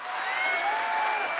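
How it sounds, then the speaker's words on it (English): Studio audience on a talk show giving a small round of applause, a soft, continuous patter of clapping heard for a brief moment. "So a little round of applause from our studio audience."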